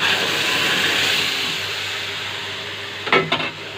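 Tomatoes going into garlic frying in a pan, a steady close hiss and sizzle throughout that thins slightly, with a couple of brief scraping knocks near the end.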